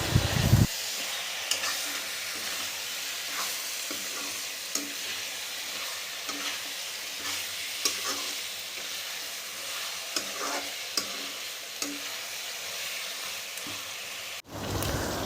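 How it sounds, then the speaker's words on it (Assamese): Goat mutton frying with onions and chillies in a pan, a continuous loud sizzle broken by repeated scrapes and clinks of stirring, heard up close with no talk. "এতিয়া মাংস দি দিলোঁ, খাহী মাংসখিনি দি এতিয়া ভালকৈ লৰাই কৰি ধুনীয়াকৈ মিলাই দিম গোটেইখিনি।"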